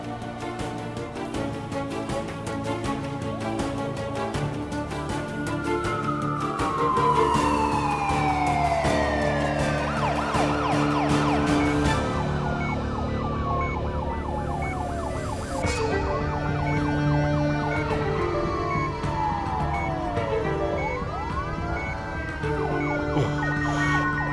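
An ambulance siren wails continuously with rising and falling tones, loud and close as the vehicle drives to a hospital, with road noise beneath and no talking.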